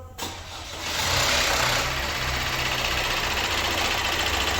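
An Opel Astra J 1.6 CDTI (B16DTH) diesel engine runs steadily at idle after a brief start, with a loud, continuous timing-chain rattling clatter layered over the low hum.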